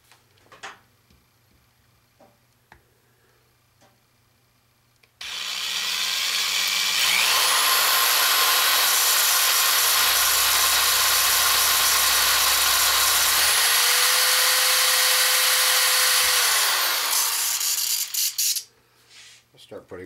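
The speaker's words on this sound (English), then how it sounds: "Now I'm going to go ahead and drill the holes in the ends of this for the connections inside the trap" Power drill boring holes in the ends of aluminum tubing for an antenna trap, a loud steady whine running about twelve seconds with a pitch shift midway, after quiet workshop ambience.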